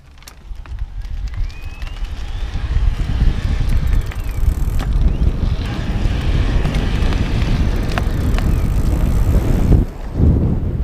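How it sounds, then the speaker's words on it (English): A Raleigh Route iE e-bike rides in its highest pedal assist, a loud rushing blend of wind buffeting and road noise over a low motor drone, steady throughout with a brief dip near the end. "I'm in the highest level of pedal assist. I'm going to try to demonstrate just how responsive it is and what it's going to sound like."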